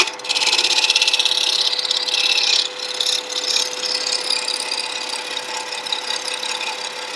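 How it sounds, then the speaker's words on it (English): A scraper cuts a wooden plate spinning on a lathe, giving a steady, loud rasping hiss over the motor's hum. The cut softens and turns uneven partway through, with no talk. "I'm going to present the scraper in this form because I'll get a little bit smoother cut"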